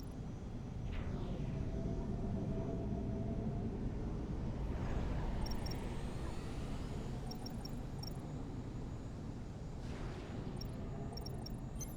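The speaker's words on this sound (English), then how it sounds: "It's already patrolling the pattern, which has been assigned him by the factory." Aircraft flying in the real-time strategy game Supreme Commander: a steady, fairly quiet engine drone with a few swooping passes and small electronic blips, under constant game background noise.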